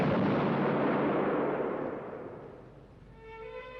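A firing squad's rifle volley in a 1976 film lands as a single loud blast that rolls off into a long decaying rumble, with a faint musical tone emerging at the end.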